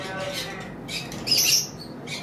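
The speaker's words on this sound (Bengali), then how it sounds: "আমাদের কাছে পাইনাপেল কোনুর রয়েছে একটা পেয়ার, ডাবল রেড ফ্যাক্টর" A pineapple conure parrot, one of a two-year-old double red factor pair, gives a brief shrill squawk in the middle, with softer chirpy calls around it over faint background talk.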